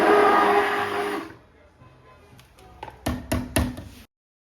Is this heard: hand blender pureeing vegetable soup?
yes